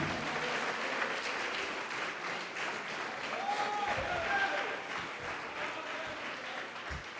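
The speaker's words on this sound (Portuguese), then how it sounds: "pode aplaudir a Deus." A church congregation claps and applauds during a sermon, a dense sustained wash of clapping from many hands that keeps an even level throughout, with voices faintly audible underneath.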